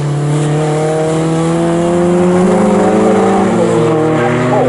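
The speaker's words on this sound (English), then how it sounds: "So Morgan Short lapping quickly, but perhaps using a little bit more than he should be." MG race car lapping Snetterton circuit in an MG Cup race, with a loud steady engine drone shifting pitch as the car holds speed close by.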